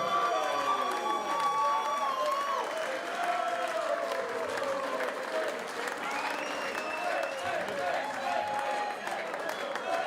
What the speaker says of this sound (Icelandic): Gefið þið gott klapp.